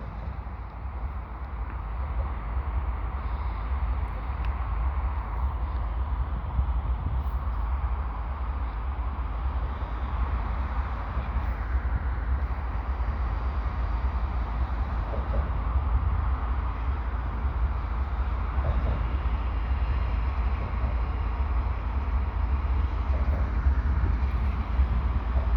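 CN freight train led by a CitiRail locomotive passing at Dorval in winter, a steady loud rumble and rolling roar that holds for the whole stretch, with some wind noise and no talking.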